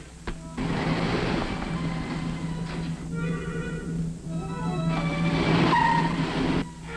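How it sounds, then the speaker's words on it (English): A 1950s car pulls away in a 1957 science-fiction film, its engine droning loudly and steadily for several seconds with a brief shift in pitch partway through. "I just saw your car drive off"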